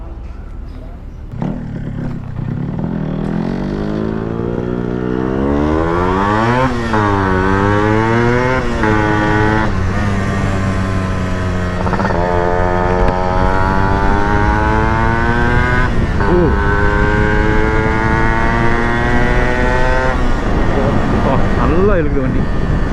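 A Yamaha RX 135 two-stroke motorcycle, well tuned, revs loudly and continuously up close, its engine pitch rising and falling through repeated throttle blips over a steady running drone.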